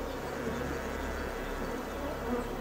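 A dense, continuous buzz of many wild bees droning together at their hive, steady and fairly faint, with no pauses and no voices.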